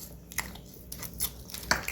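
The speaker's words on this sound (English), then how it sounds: "Let's hear that crunch." Someone bites into a fried chicken leg, giving a few short, close crunching bites in quick succession with no talking.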